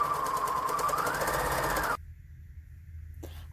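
A sewing machine stitching a printed cloth book panel, a close whirring run of rapid needle strokes that stops abruptly, followed by quiet and a brief click.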